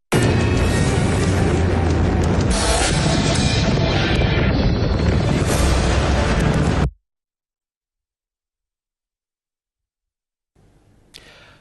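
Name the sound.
New Year fireworks exploding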